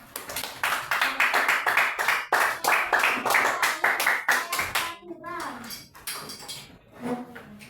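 A classroom of children applauds after a student's answer, a dense burst of hand clapping lasting several seconds before thinning out, with young voices chattering underneath.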